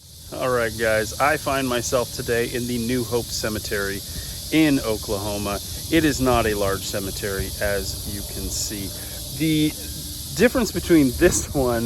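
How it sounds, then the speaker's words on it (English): Loud, constant shrill drone of cicadas in the trees of a small Oklahoma cemetery, running steadily beneath someone talking close to the microphone throughout. "The cicadas in the trees, they are super, super loud."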